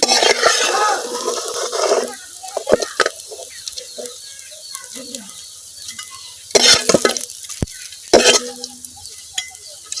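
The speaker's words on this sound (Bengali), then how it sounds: "বড়াগুলা কিন্তু উল্টায় পাল্টায় ভাজা নিচ্ছি" Fritters of data shak (stem amaranth greens) fry in hot oil and are turned over, with bubbling sizzle and sharp bursts of spattering and scraping that come in loud clusters over quieter crackling.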